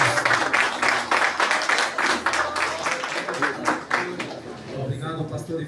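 A church congregation claps in steady rhythmic applause, many hands together at close range, while a voice speaks over it before the clapping fades near the end.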